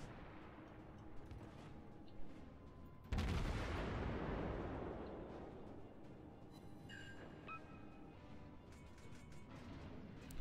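Heavy ship guns fire in World of Warships aboard the cruiser Karlsruhe, with a loud booming salvo that bursts out and slowly rumbles away, set against faint mechanical background noise and scattered smaller impacts.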